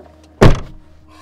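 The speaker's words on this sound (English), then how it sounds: "Close the door now." A door shuts with a single loud thud, sharp and close, followed by a short fading rattle in an otherwise quiet room.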